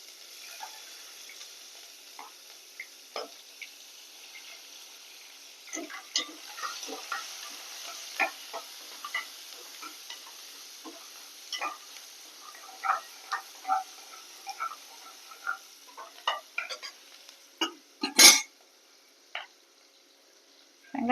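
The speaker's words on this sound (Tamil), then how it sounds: "இப்போ ஆனியனை போட்டுக்கலாம்." Onions frying in a pan for a bottle gourd and black bean gravy, with a soft steady sizzle under repeated clinks and scrapes of a spoon stirring, growing busier toward the end; no talking.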